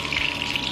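Rendered duck fat is poured into heated coconut oil while cooking a Kuttanad duck roast, a short steady liquid hiss and trickle up close.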